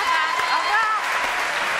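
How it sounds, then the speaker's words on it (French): A studio audience claps in a televised show, a dense, steady wash of applause lasting throughout, with voices and tonal sounds mixed in over it. "Applaudissements pour eux, merci beaucoup."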